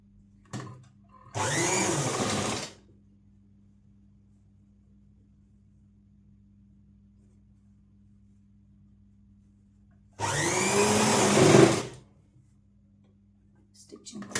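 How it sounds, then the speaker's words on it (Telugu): A sewing machine stitching the side corners of a blouse whirs in two short bursts of about a second or so each, close by, with quiet pauses between them. "సో రెండు వైపులా కూడా కార్నర్లో స్టిచ్ వేసుకుంటున్నాను."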